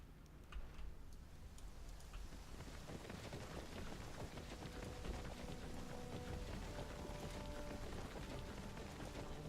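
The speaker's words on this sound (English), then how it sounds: "Bakken, you're standing out in the rain." Rain falls in the video game Pathfinder Kingmaker as a soft, continuous patter with faint ticking drops and a low rumble beneath, quiet and unbroken, with no voices.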